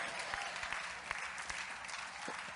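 An audience at a lecture claps steadily, a dense wash of applause from a crowd at moderate distance that holds at an even level throughout.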